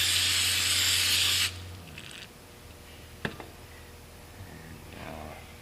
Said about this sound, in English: I'm actually gonna spray this down, clean this up a little bit.